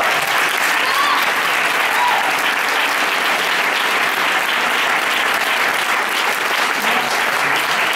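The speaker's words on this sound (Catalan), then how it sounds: "aquest fort aplaudiment a la Marc, per la concert que ens ha muntat" Loud, sustained applause from a concert audience for Marc, a thick wash of many hands clapping evenly without a break from start to finish.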